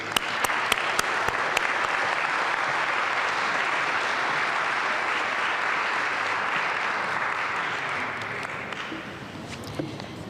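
An indoor audience applauds at the East Boston Senior Center announcement, dense sustained clapping for about nine seconds that gradually tapers into scattered claps.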